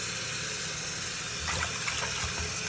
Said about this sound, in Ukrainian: Набираємо воду